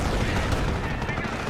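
Machine gun fire in the real-time strategy game Company of Heroes, a dense continuous rattle of rapid shots blended with battlefield rumble, steady and loud throughout the short span.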